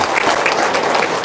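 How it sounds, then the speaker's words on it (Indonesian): Brief, loud burst of close crowd clapping from a small gathering in Lampung, dense and even for just over a second. "Tepuk tangan dulu dong dari Lampung"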